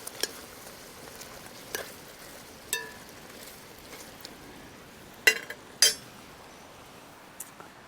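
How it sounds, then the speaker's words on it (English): Quiet, sparse clinks and light scrapes of a utensil stirring Thai chicken curry ingredients in a pan, a handful of soft taps spread out over faint background hiss. "Give them a stir."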